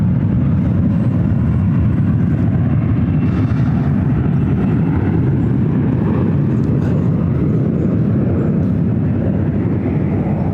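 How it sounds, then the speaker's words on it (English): A Boeing 777-300ER jet takes off from San Francisco airport on a flight to Hong Kong, a steady, dense engine roar heard from a distance that holds constant and loud for about ten seconds. "777-300ER heading to Hong Kong, flight 869"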